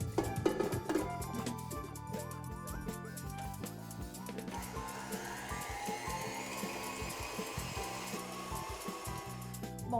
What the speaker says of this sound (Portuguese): Nós vamos bater a manteiga e o açúcar na batedeira em velocidade média até ficar um creme fofo e claro.